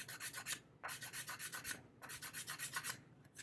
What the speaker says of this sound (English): I got some sandpaper here on a sanding block